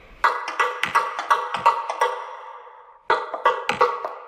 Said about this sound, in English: I'm just creating like a feedback, like a delay